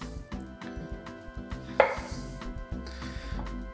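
A knife slices through a butternut squash on a board, cutting it into thick steaks, with several dull chops and a firmer cut midway, under steady background music.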